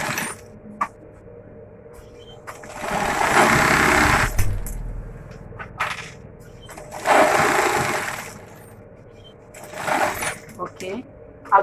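A sewing machine stitches dress fabric in two short bursts of rapid whirring separated by quieter pauses, with a person speaking during the gaps and scattered clicks and handling noises.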